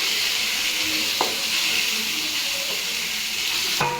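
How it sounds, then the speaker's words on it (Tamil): A curry with tomato and turmeric sizzles steadily in a pan as it is stirred, a continuous frying hiss with a couple of brief scraping clicks, close and fairly loud, no talking. "நல்லா கலரி விட்டுக்கலாம்."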